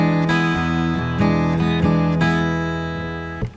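An acoustic guitar playing a blues shuffle, chords struck in a lilting long-short swung rhythm, close and full, the last chord left ringing and fading, no talking.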